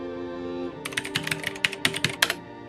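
Fingers tap a computer keyboard in a quick burst of about a dozen crisp, close keystrokes over a steady low hum, after a brief quiet lead-in.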